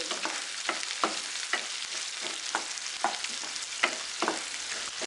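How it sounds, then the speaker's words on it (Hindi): Chopped onions fry in a pan with bay leaf, sizzling steadily up close while a spoon stirs them in regular scraping strokes, with no talking. "जो आपने प्याज चॉप करके रखा है वो डाल देंगे और इसको हल्का गोल्डन होने तक इसको फ्राई करेंगे"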